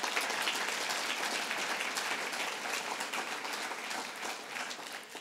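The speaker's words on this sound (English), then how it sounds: "Let's give her a round of applause" An audience at the Business Council of New York State's annual meeting breaks into sustained applause, dense and steady throughout and slowly easing toward the end, with no voice over it.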